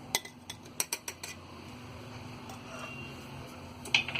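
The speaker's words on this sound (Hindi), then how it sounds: "इन सारी चीजों को हम अच्छी तरह मिक्स कर लेंगे।" Fish is mixed in a bowl with lemon juice and dry spices such as salt, chilli, cumin, mustard seed and black pepper, with a quick run of light utensil clinks, then a soft stir and one last clink.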